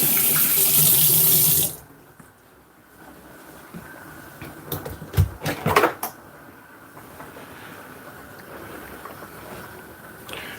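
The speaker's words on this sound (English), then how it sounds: "Then I'm gonna wash my hand off again." Water runs loudly from a kitchen tap for a couple of seconds while hands are rinsed during stir-fry cooking, then cuts off, leaving a few clunks and soft handling sounds close by.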